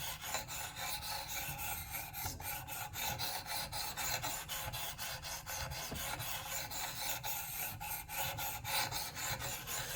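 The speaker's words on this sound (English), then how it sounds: "almost just moving it back and forth and letting the weight of the stone itself do the sharpening" A PL-XE plane blade is rubbed back and forth on a whetstone under light pressure, making a continuous, close raspy scraping with a quick, even stroke rhythm.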